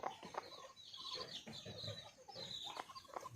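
Several Lao Seven Doi breed hens cluck and chatter continuously at close range, with overlapping calls and a busy farmyard background.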